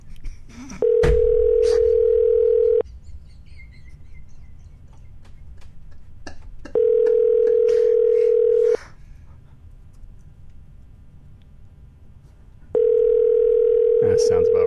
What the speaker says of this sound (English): why don't we get Dan on the line?